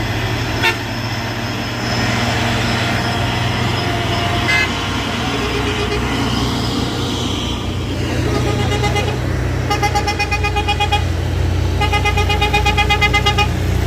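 A heavy truck rumbles past close by at night, engine droning, with a series of horn toots sounding near the end.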